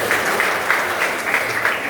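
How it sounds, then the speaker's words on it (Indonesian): A church congregation applauds during a Christmas service, dense steady clapping from many hands that keeps a rough shared rhythm throughout. "Tepuk tangan bagi Tuhan Yesus."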